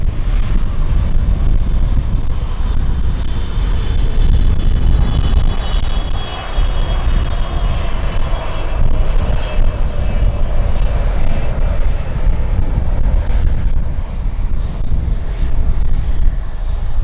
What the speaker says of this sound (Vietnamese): mời mọi người chiêm ngưỡng pha hạ cánh và chiếc máy bay rất đẹp này ở sân bay Tân Sơn Nhất